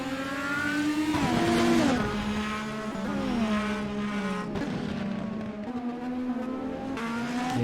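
Indy Z race cars lap Circuit of the Americas in a steady, loud engine drone whose pitch climbs and drops through gear changes, with several cars layered close together and no voices over the noise.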